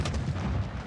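A frag grenade blast in Black Ops 6, a single deep booming burst that fills the low end and rolls on briefly at close range.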